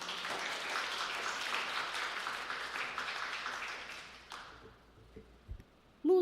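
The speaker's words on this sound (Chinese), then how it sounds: "我们拍手欢迎她" A church congregation at a Sunday service claps in welcome, with a dense burst of applause for about four seconds that then thins out into a few scattered claps and near silence.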